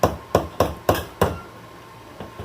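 A bolt is tapped with a hammer to press a resistor out of an electronic component: five sharp metallic knocks in quick, uneven succession, then a pause and two fainter taps.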